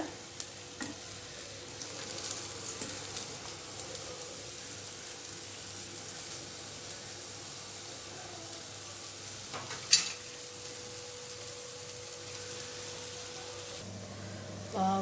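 Cassava kuih upi kayu pieces frying in oil, giving a low, even hiss that carries on steadily, with a couple of faint utensil taps and one brief louder clink, no voices.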